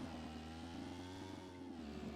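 Engine of a cross motorcycle in the survival game Hurtworld, a steady buzzing mid-pitched drone with a faint rising rev, heard alone and fairly quiet.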